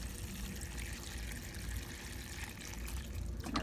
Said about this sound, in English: Add some water with fertilizer.